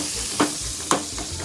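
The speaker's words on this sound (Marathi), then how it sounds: "त्याच्यात टाकते आता कांदा। कांदा छान ब्राऊन होईपर्यंत तळून घ्यायचा।" Onion frying in butter in a pan, a steady sizzle with two brief louder stirring scrapes, close and alone.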